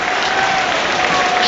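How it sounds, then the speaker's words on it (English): Doncaster Rovers fans applaud around the stadium during a League Cup match against Everton, a dense, steady wash of clapping from a large crowd. "there's applause around the stadium from Doncaster Rovers fans"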